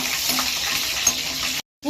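Garlic sizzling in hot oil for a traditional Tamil fish curry, a loud, steady frying hiss that cuts out abruptly near the end before resuming faintly, with no voices.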